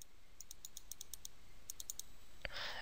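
Computer mouse clicking while making selections in image-editing software: a quick, light run of about fourteen crisp clicks in small groups, followed by a brief louder rustling burst near the end, with no talking.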